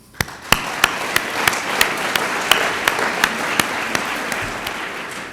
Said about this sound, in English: thank the entire Chamber Board and its membership with one more round of applause